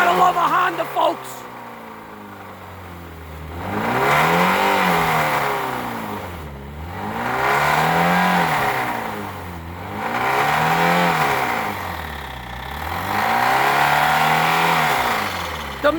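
Honda Civic engine, run with milk in it, revving in neutral in repeated slow swells, about four long rises and falls of pitch with idle dips between them, loud and close, after a brief opening voice.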